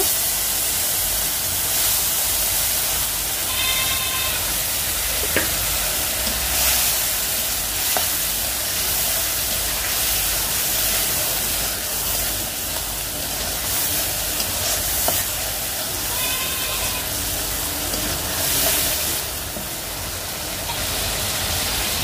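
Shrimp being sautéed in spiced oil in a pan, a continuous loud close sizzle running throughout with a few faint stirring taps, with no voices.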